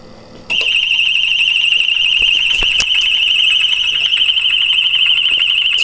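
An electric gate opener's alarm, triggered after the gate hits its limit, blares a loud, steady high-pitched electronic tone that starts abruptly and holds continuously, with a couple of brief clicks partway through.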